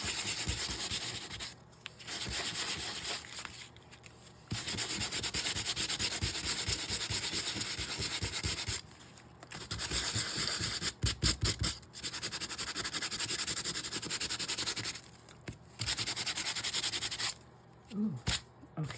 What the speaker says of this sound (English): Do I have a little sander here?